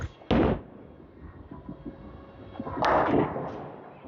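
A bowling ball strikes the pins with a sharp clatter, followed by a quieter stretch of ball rumble and a second loud crash of pins scattering and settling nearby.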